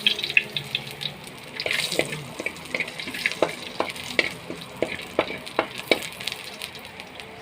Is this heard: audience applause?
no